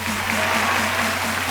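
An audience at a school quiz show applauds the round's winner, Milan, with steady, dense clapping from a crowd that fills the room evenly and continues without a break, fairly loud and near.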